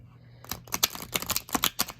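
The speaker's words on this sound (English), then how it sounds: "I'm going to make sure this deck is good and shuffled." A tarot deck being shuffled by hand, a quick run of close, crisp card riffles and slaps that starts after a short quiet lead-in and continues in uneven bursts.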